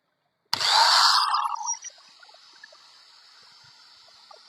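A used Hitachi angle grinder is switched on for a test run in a Karachi used power tools market. It gives one loud whining burst that lasts about a second, then spins down into a long fading ring.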